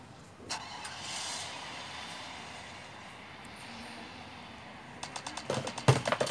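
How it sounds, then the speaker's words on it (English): A monster truck engine in the video game Free Fire, a steady mechanical drone that swells then settles, followed by a burst of sharp clattering impacts near the end. "That's a monster truck."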